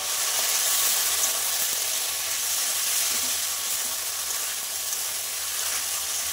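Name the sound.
water added to hot pan with ground spices, sizzling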